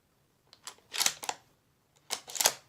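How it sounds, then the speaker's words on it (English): A bolt-action sniper rifle reload sound effect from the video game Fortnite plays as two quick groups of crisp mechanical clicks and slides, close and clean against silence. "Epic bolt action sniper reload from Fortnite."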